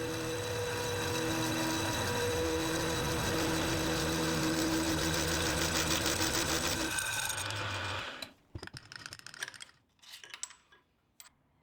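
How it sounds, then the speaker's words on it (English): A milling machine fitted with a slitting saw cuts a new slot in a steel vice jaw, a loud, dense, continuous machining whine for about eight seconds. It then stops, leaving a few scattered clicks and knocks. "It just needs a new slot, which I'll do with a slitting saw on the milling machine."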